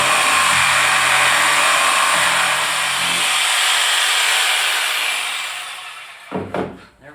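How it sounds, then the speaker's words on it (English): Jigsaw cutting wood for a telescope mirror box, a loud steady buzzing whine close by that runs for about six seconds, then winds down and stops. "use my jigsaw, and I'll cut just inside the line"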